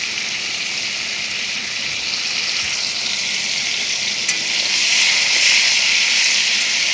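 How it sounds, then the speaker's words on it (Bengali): Pointed gourd (potol) slices frying lightly in oil give a steady, close sizzle that runs unbroken and grows slightly louder near the end, with no voices. "পটলটা কিন্তু বেশি ভেজে নেব না, হালকা ভেজে নেব।"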